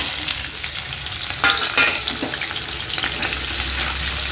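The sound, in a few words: beans frying in white oil in a wok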